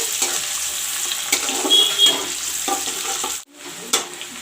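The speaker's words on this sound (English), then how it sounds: "Now I will put in the onions cut up. I will let the onions fry." Cut-up onions fry in a pan after browned cumin, making a close, continuous sizzle with scattered stirring scrapes. It drops out briefly near the end, then the sizzle comes back and no one speaks.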